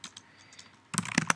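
Fast keystrokes on a computer keyboard: a few faint taps, then a louder burst of close clicks in the last half second, with no talking.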